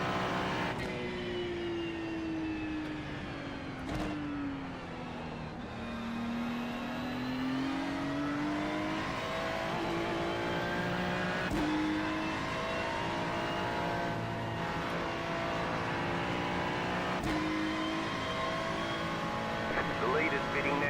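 Race car engines rev and accelerate through a racing video game pit stop during a viewers' championship finale, a steady loud drone of gliding engine tones with a few sharp clicks, and talk over the top throughout.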